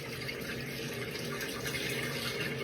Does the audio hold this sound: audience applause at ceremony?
no